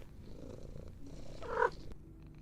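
A cat purring close by in a steady, low rumbling rhythm, briefly rising louder for a moment before settling again, with no talking over it.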